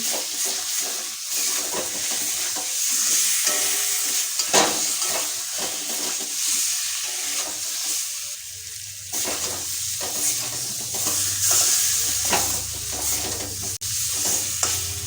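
Hog plums (amra) sautéing in a pan for an egg korma, a steady close sizzle with repeated scraping stirs over about two minutes of cooking, no talking.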